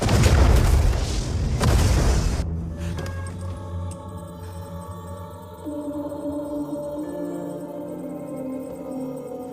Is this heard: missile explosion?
yes